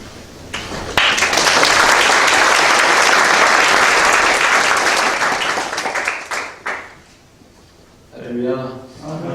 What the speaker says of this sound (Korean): 세 분 연이어 나오실 때 뜨거운 박수로 환영해 주시면 감사하겠습니다.